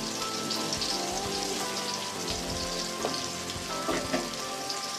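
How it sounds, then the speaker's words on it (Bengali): Pieces of pointed gourd (potol) coated in salt and turmeric frying in hot oil, a dense crackling sizzle like rain on a surface, close and steady with occasional louder pops and stirring scrapes. "আমি কটা পটল ভাজবো। পটলগুলো দিয়ে দিলাম। তেল গরম হয়ে গেছে।"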